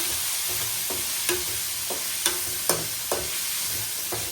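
Onion and green chillies frying in a pan, a steady close sizzle broken by a few sharp clicks and scrapes of stirring, with no voices.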